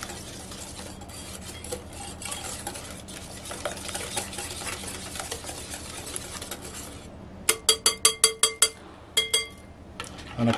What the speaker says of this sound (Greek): Ανακατεύουμε και εδώ.